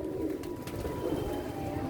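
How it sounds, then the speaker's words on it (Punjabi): Roughly 200 to 250 flying pigeons fill a large cage with a steady, dense murmur of cooing, a continuous low rolling chorus that stays loud and even throughout with no talking. "ਇਹ ਸਾਰੇ ਉੱਡਣ ਵਾਲੇ ਕਬੂਤਰ ਤਕਰੀਬਨ ਇਹ ਵੱਡਾ ਕੇਜ ਤੇ ਇਹਦੇ ਵਿੱਚ ਤਕਰੀਬਨ 200-250 ਕਬੂਤਰ ਹੋਵੇਗਾ ਇਸ ਕੇਜ 'ਚ"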